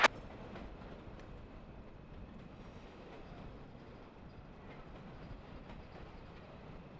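CSX freight train rolls past at a distance, a faint, steady rumble with soft wheel clatter that continues evenly throughout, no voices present.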